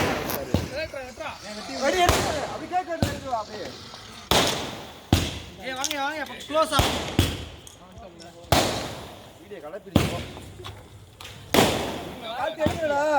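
Sharp explosive bangs of sky-shot fireworks go off one after another at irregular intervals, each with a brief crackling tail, while people talk throughout.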